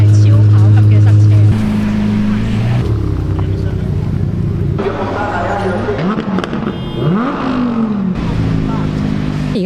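Supercars crawling onto the Monza circuit for an opening parade, engines idling and revving up close in a slow jam of traffic, with rumbling low tones, brief throttle blips and a voice talking over them.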